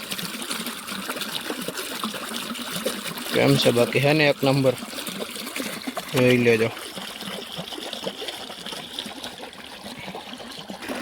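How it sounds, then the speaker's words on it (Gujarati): Irrigation water for a cumin field flows and trickles steadily through a channel outdoors, a constant close gurgling rush, while someone talks loudly over it in two short stretches. "પાણી આવે છે એનો અવાજ આવે છે"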